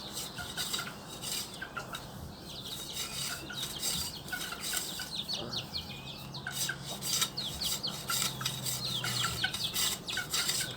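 A blunt knife scrapes along a bamboo kite rib in repeated rasping strokes, close and steady. A rooster clucks and crows in the background throughout.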